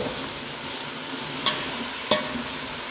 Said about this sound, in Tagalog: sumasayaw pati kaldero guys kasi ikiniwar natin